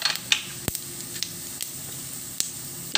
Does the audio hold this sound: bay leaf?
yes